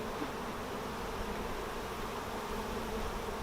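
Honey bees buzzing around an open beehive, a steady, dense, droning hum from many insects close by, continuous and even throughout with no talk over it.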